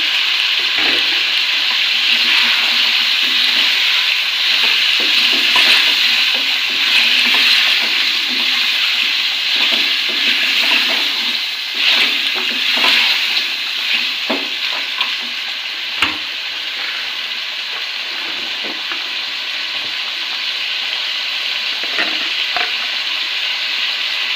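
Chopped tomatoes frying for mutton karahi, a loud continuous hissing sizzle with scattered crackles and stirring scrapes, easing slightly in the second half, with no voices.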